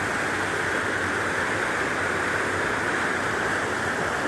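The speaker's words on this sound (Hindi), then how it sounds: "ये जो निकल रहा है पानी" Water gushes steadily out of a canal, a loud, dense, unbroken rushing wash heard up close with no voices.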